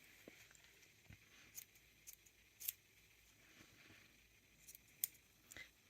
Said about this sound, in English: you can just go around with your scissors